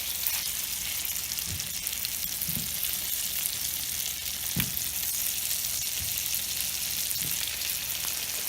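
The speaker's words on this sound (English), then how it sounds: "But so let's fry them." Thick-cut potatoes frying in a pan, a steady hissing sizzle throughout with a few soft knocks from handling, close and fairly quiet, with no talk.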